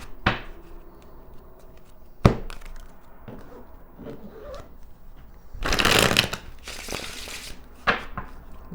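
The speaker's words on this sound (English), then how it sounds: "I'm just going to like shuffle the cards here." Tarot cards are shuffled by hand up close, with quick riffles, taps and a longer burst of flapping, separated by quiet handling noises.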